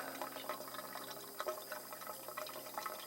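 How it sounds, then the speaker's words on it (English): Water rushing under pressure into a sprinkler supply line and its valves, a steady broadband hiss with gurgling and spitting as trapped air is pushed out, fairly close and continuous. "I just turned on the valve that sends the water down the supply line into the valves up here"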